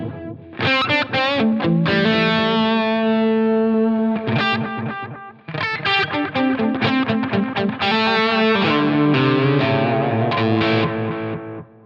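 An electric guitar runs through a CrissCross delay, its repeats darkened by high cuts, playing distorted chords and melodic notes with trailing echoes. It rings continuously except for a short break midway, with no voice.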